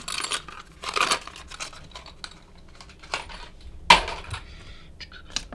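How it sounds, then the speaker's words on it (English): Small metal toy keys from a Lovevery play kit for three-year-olds jingle and clink in a few sharp bursts, with quieter handling clicks between them, close to the microphone. "I think these are the keys to open and lock the door."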